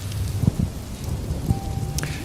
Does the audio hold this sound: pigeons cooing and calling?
no